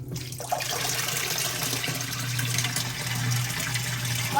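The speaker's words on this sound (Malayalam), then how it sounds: "അപ്പം പിന്നെ ഇങ്ങനെ ഓരോ കപ്പായിട്ട് ഒഴിക്കാമെന്ന് വിചാരിച്ചു." Water is poured cupful by cupful into a fish tank, a fairly quiet, steady splashing pour close by with a small knock at the start.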